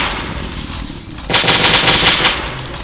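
Sustained automatic gunfire in the survival game Last Day on Earth: Survival, during a bunker raid event; a steady background level jumps after about a second into dense, loud, continuous rattling bursts.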